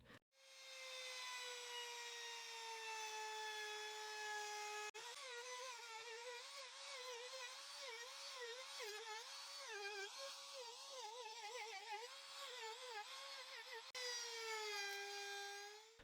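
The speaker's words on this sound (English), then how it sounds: "the corners on the top part are rounded over using the router with this 30 millimeter bit" A router fitted with a 30 mm bit rounds over the corners of a pine wood top, a loud, steady high-pitched whine that wavers as the bit bites into the wood, then settles again.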